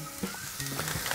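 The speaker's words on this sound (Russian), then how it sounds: "В сковородку вначале отправляем грибы и лук." Mushrooms and onions sizzling in a hot pan, a close, steady crackling hiss with small pops and light clinks of stirring.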